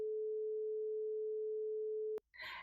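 A steady pure high tone imitating ringing in the ears holds unbroken for about two seconds, then cuts off sharply, followed by a brief burst of noisy sound.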